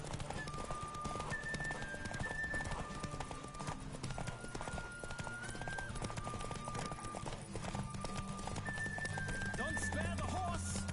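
Hooves of a galloping horse during a race in The Witcher 3, a rapid, continuous clip-clop under game music with occasional whinnies and a voice speaking now and then.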